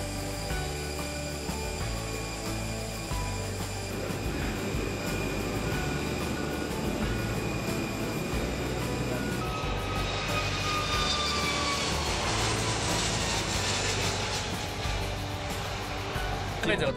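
An airplane engine produces a steady, loud drone with sustained whining tones that swell and brighten about midway through, continuous for the whole stretch.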